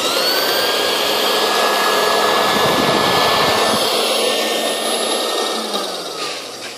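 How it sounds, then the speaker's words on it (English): New-Tech 4-inch rotary cutter with a lower blade holding the fabric, cutting cloth with a loud, steady whirring motor drone that runs throughout and eases slightly at the end. "there's a lower blade here that holds the fabric while you're cutting. You could go straight or curved"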